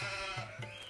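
A goat bleats in a few short, wavering calls close by, on what sounds like a village farmyard, with no talking.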